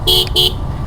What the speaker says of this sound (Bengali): এই যে হর্নের আওয়াজ